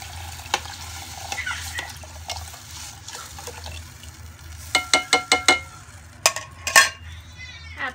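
Curry paste being stir-fried before coconut milk and water go in, with a low sizzle under scattered clicks, then a burst of sharp spoon-on-pan scrapes and taps near the end, close by.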